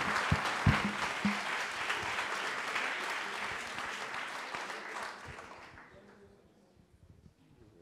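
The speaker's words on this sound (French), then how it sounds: "Et on les applaudit" An audience at a web development bootcamp demo day in Paris applauds the presenting team. Dense clapping runs strong at first, with a few louder claps near the start, then thins and fades away toward the end.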